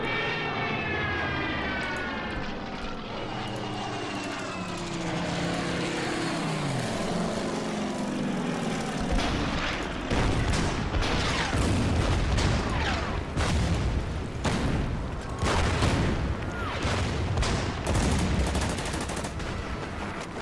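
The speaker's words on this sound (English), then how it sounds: "So we got Stukas, we got bombers, we got artillery" Artillery fire and Stuka dive bombers in the WWII strategy game Order of Battle: an aircraft engine drones with a falling pitch, then a dense run of loud, sharp gunfire and blasts repeats steadily for about ten seconds.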